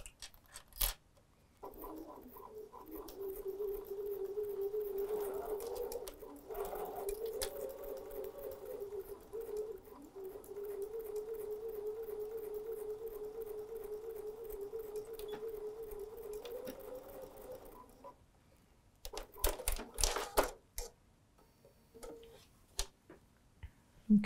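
A sewing machine stitches fabric for a pin cushion, running steadily and slowly with a close, even whirring drone for most of the stretch, then stopping before a few clicks and handling noises.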